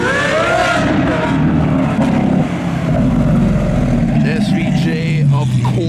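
A Lamborghini SVJ with a naturally aspirated 6.5-litre V12 and aftermarket exhaust pulls in at a street car meet, its loud engine note rising and shifting close by while people talk over it.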